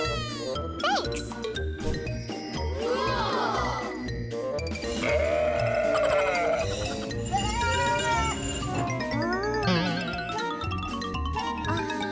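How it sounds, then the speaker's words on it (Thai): Goats bleating as they are fed, mixed in with bright jingling chimes and tinkling sounds, with people talking throughout. "ให้อาหารแพะทางนี้"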